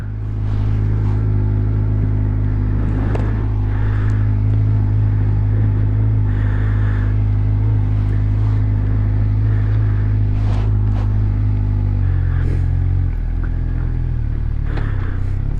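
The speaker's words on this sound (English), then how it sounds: "just warm the bike up a little bit" A Suzuki GSXR 600 motorcycle engine idles while warming up, a loud, steady low rumble that runs unbroken throughout, with a slight shift in pitch near the end.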